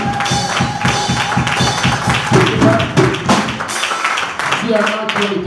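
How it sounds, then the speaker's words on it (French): A church congregation claps along in a steady rhythm during a worship service, with voices and music mixing into the beat before it thins out near the end. "Applaudissez pour Jésus bien-aimé."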